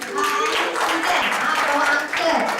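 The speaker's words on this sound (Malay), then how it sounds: "Kasih tepuk tangan untuk" A live audience at a travel talk claps steadily for about two and a half seconds, a dense, loud wash of hand claps with voices mixed in under the applause.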